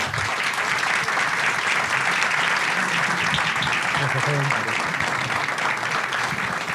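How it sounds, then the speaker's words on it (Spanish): Lecture audience in Uruguay applauding a speaker at a conference on the Jewish roots of Christianity, a full, even burst of clapping filling the room, with a voice briefly audible beneath it. "un fuerte aplauso para Mario"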